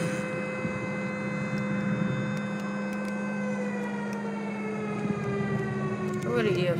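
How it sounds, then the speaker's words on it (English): Tornado warning sirens wail steadily in the distance, their tone slowly falling, while a vehicle's engine hums nearby. "There's those sirens."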